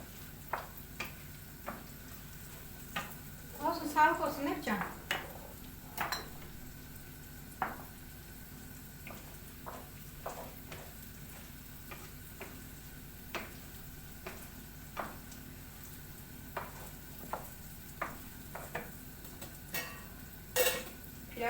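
Soft, steady bubbling of hazelnut-harvest food boiling in a pot, with irregular small pops and ticks over a low simmering hiss.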